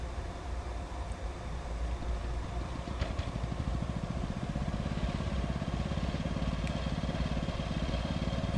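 A homemade DIY lawn mower engine runs at a steady idle-like chug, a continuous low rhythmic putter close by with a faint mechanical whine, no talking.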